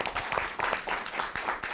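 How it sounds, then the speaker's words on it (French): Applause from a live studio audience for the behind-the-camera crew of a TV show, a steady, fairly loud wash of clapping that fills the whole moment without any talk over it. "j'aimerais ça vraiment qu'on donne une bonne main d'applaudissement à toute l'équipe de Nous TV ici qui travaille dans l'arrière des caméras"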